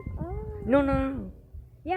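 A rescued cat, once freed from a Coke machine, gives a drawn-out rising and falling meow near the recorder, then starts another at the end, while people talk briefly nearby.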